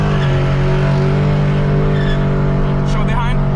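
A 2021 Dodge Challenger R/T Scat Pack roars loudly at launch with tire squeal from wheelspin, heard from inside the car as a dense engine drone while people talk over it.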